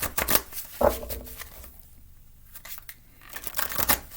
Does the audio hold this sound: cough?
no